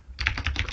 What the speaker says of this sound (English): we're gonna go ahead and type public boolean on command